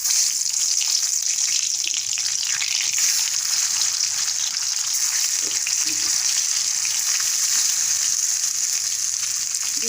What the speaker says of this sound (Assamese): ডিমটো আমি ফ্ৰাই কৰি ল'ম।